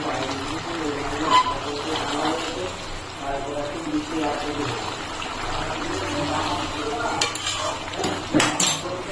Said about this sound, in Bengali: এখন হাতা দিয়ে একটু দু একটা আলু একটু ভেঙে দেবো ঝোলটাকে ঘন করার জন্য